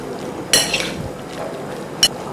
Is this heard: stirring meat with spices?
yes